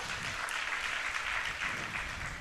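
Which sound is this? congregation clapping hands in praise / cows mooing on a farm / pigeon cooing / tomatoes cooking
congregation clapping hands in praise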